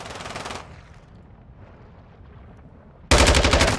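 Loud automatic gunfire in Call of Duty DMZ on Ashika Island rips out in two close bursts, one at the start and another at the end, with a quiet lull between them.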